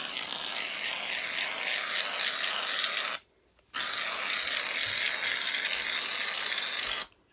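Shaving cream sprays from an aerosol can into a small craft tray in two long, steady hissing bursts separated by a short pause, close and fairly loud with no talking.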